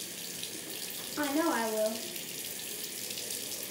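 A tap runs steadily over a phone being washed at a sink, a soft continuous stream with a short spoken phrase partway through.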